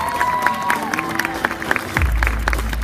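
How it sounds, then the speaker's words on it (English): Audience clapping and crowd noise at Gammacon, a fan convention, building after a costume showing, with cheering and a loud low rumble surging in near the end. "So give it a round of applause"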